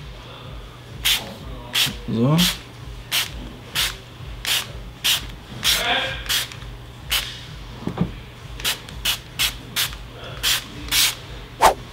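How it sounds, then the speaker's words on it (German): A spray head mists cleaner onto a car seat in a series of short, sharp hissing bursts at an irregular rhythm, mixed with rubbing and scrubbing sounds, while someone speaks briefly. "Jetzt mal Sprühkopf einsprühen."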